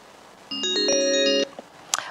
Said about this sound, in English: And I believe we have Rep. Kassa on the phone.